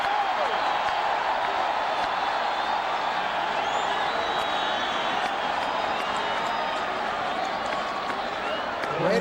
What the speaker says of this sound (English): Crowd trying to urge the Raiders on.